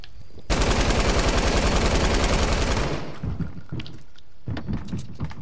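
Sustained fast automatic gunfire in the Fortnite video game, loud and close for about two and a half seconds, then scattered softer impacts and shots fading afterward.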